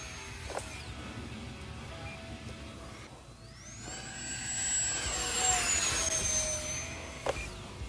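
An E-flite Habu Super Sport 70mm ducted-fan RC jet on a 6S battery flies past with a thin, rising turbine-like whine that swells and peaks midway, then fades over a soft outdoor background.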